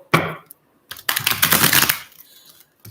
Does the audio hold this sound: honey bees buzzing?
no